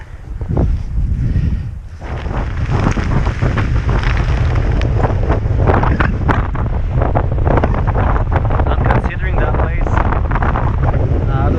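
Strong gusting wind battering the microphone on an exposed mountain trek around Sylarna, loud and continuous low-frequency buffeting that barely lets up, with a brief lull near the start.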